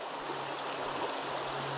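Water of Dismal Creek runs along its banks beside the Appalachian Trail, a steady, close rushing and gurgling wash that holds even throughout with no talk.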